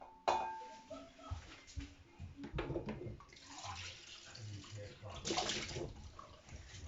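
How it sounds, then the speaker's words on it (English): Beaten egg is poured into a bowl while making bacon and leek tartlets, a close liquid pour with wet splashing and sloshing that swells and fades over several seconds. "I'm going to just pour half of that in there"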